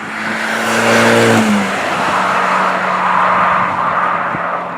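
A Ferrari California T engine roars loudly from inside the cabin as it accelerates hard at full throttle, the pitch climbing through a gear change into a sustained rush of engine and road noise.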